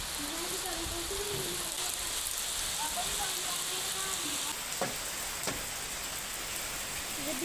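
Steady rain falls outdoors in a village during the monsoon, a dense, continuous hiss of drops on surfaces lasting throughout, with a couple of sharper splashes or knocks near the end.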